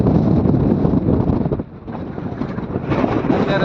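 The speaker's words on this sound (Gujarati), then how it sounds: "પવન જોરદાર છે અત્યારે" Strong wind gusts buffeting the microphone on an open hilltop, a steady loud roar that dips briefly midway before surging back.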